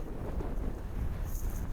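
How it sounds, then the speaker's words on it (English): Steady low rumbling wind buffets the microphone throughout on a mountain hike in Colorado, with a faint airy hiss rising briefly near the end. "it's also pretty windy"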